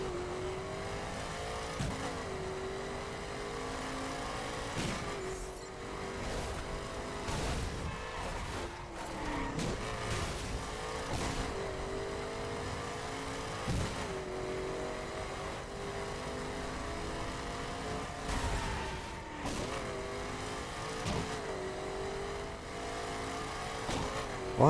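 A car engine in a multiplayer video game drones and revs steadily for the whole stretch, broken by sharp popping backfires that stand out over the motor.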